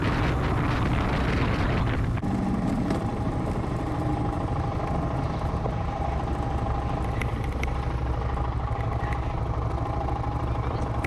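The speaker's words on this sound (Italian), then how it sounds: "rimetto in moto e torno sull'autostrada" A motorbike rides along a Greek motorway, its engine droning loud and steady with heavy wind rush over the microphone, growing louder in the opening seconds.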